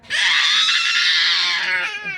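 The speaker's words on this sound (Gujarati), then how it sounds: "કેવી આટલી રાડો પાડે છે" A child lets out a loud, sustained, high-pitched scream that lasts nearly two seconds close to the listener, then it trails off.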